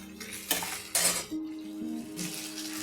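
Metal clatter of a lid being set onto a pot of simmering fish in a home kitchen, two sharp clanks close together followed by a soft ongoing bubbling.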